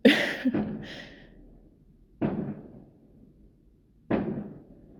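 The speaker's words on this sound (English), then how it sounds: "I don't know if you can hear it, but there's fireworks going off" Sharp distant bangs of fireworks, three separate booms spaced about two seconds apart, each followed by a fading echo.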